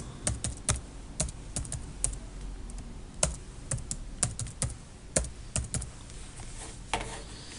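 Fingers type a password on a computer keyboard, a nearby run of sharp, irregular key clicks with short pauses between groups, heard alone without speech.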